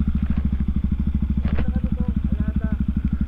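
A motorcycle engine runs close by with its exhaust, pulsing in a fast, steady low throb throughout, with faint voices in the background.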